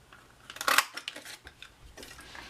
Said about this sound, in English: the Spooky Sweets is going to be cut out with the 1 1/4 inch circle punch